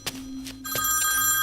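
A mobile phone's electronic ring starts after a couple of soft thumps and then trills on steadily and clearly to the end, in a scene from a dubbed action thriller film.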